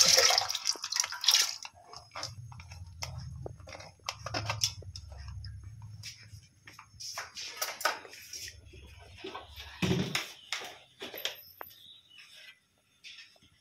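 Washed urad dal tipped into a pressure cooker that already holds water, heard as splashing and pouring bursts with scattered drips and clinks of the metal pot, close and fairly quiet.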